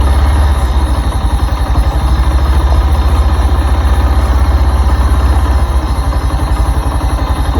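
A car's engine left running at idle after its battery went flat, a steady low rumble with faint clatter that goes on without a break at close range.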